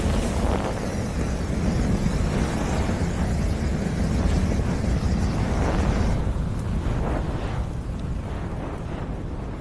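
Flamethrower blasts layered with burning fire produce a thick, continuous roar with crackling texture, loud and sustained throughout, easing slightly toward the end.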